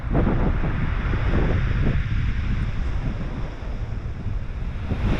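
Strong wind on Chesil Beach at Ferrybridge buffets the microphone in a continuous loud rumble, with surf washing in the background; no voices.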